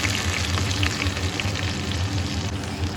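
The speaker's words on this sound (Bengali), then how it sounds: "তো এর মধ্যে এখন দিয়ে দিচ্ছি পেঁয়াজ কুচি।" Chopped onion frying in hot oil with tempering spices for a rohu fish head, cabbage and new potato dish, a loud, dense continuous sizzle close up, steady throughout with no voices.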